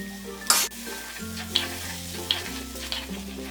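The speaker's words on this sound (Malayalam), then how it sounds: "ഈ ചട്ടിയിലേക്ക് എടുത്തു വെച്ചിരിക്കുന്ന ജിഞ്ചർ ഗാർലിക് പേസ്റ്റ് ഇട്ടൊന്ന് ഇളക്കി കൊടുക്കാം" Ginger garlic paste fries in a pan, a steady sizzle broken by a sharp metallic clatter and then several spoon scrapes as it is stirred, with a low hum underneath.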